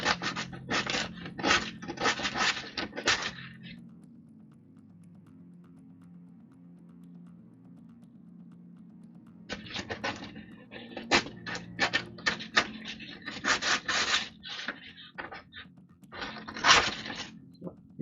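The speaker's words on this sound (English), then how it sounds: "So this is just like really the preliminary sanding." Sandpaper scrubbed by hand over a stack of penguins in a first rough pass, with quick rasping strokes in two dense bursts separated by a quiet pause of several seconds, heard up close.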